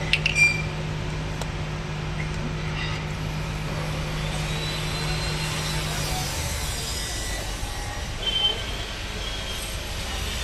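A small HTP agricultural crop sprayer engine with a separate pressure pump drones steadily at close range, its low hum continuous for about six seconds before fading into quieter background noise.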